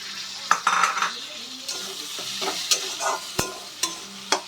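Chopped tomato drops into a pan of frying ginger, garlic and green chilli paste for a fish roe curry, bringing a steady sizzle with repeated sharp spoon scrapes and clinks against the pan, close and fairly loud.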